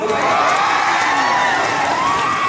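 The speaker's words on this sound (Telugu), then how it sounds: "ఈ స్పెషల్ ఏంటంటే జబర్దస్త్ లో నాకు అవకాశం ఇచ్చిన మా చంద్రన్న, నా గురువు గారి కోసం ఒకసారి గట్టిగా చప్పట్లు" A large outdoor crowd at a movie pre-release event in Hanamkonda claps and cheers steadily and loudly, a dense roar of applause with whoops throughout.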